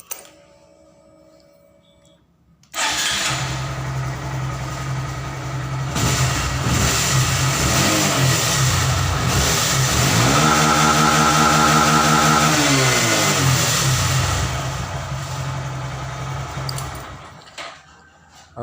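An MSX motorcycle engine, not yet ECU remapped, starts up loud and close, idles steadily, then revs up to a sustained high whine before easing back down and cutting off.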